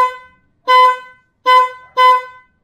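A Honda XRM motorcycle horn honks four times, short nasal beeps with brief pauses, loud and close with nothing else around.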